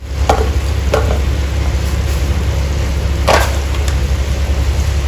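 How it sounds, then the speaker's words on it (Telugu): Cumin and mustard seeds sizzle in hot oil while cooking ridge gourd curry, with a steady low frying hiss and a few sharp pops and crackles scattered across the clip. "కొంచెం జీరా కూడా వేస్తున్నాను నాలుగు ఆవాలు కూడా వేస్తున్నాను"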